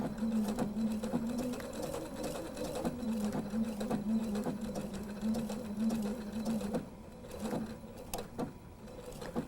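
A sewing machine stitches a scrappy quilt close by in a steady fast run that slows and pauses briefly, then resumes with a few separate stitches toward the end.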